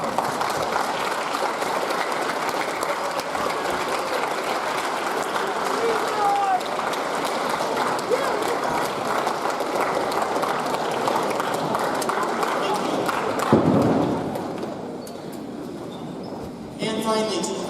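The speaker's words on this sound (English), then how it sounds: "give them a big round of applause." Families and students applaud at an 8th grade graduation ceremony, a dense, steady wash of clapping filling the hall for about fourteen seconds before thinning out, with talk mixed in.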